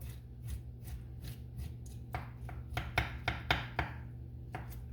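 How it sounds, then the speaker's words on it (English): A knife scraping seeds out of a halved vegetable while making Hawaiian sliders, heard as a run of short, close scratchy strokes that grow louder and quicker toward the middle, over a low steady background hum. "So we'll just scrape some of the seeds out, right?"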